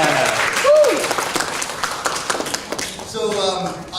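An audience at a conference claps in a short burst of applause for the organizers. Raised voices and cheers mix in, and the clapping continues under nearby talk.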